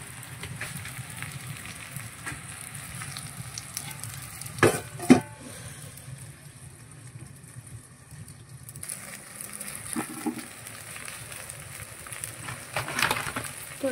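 Food fries in a pan at home, a low steady sizzle running throughout with occasional sharper scrapes and clatters of stirring, no one talking.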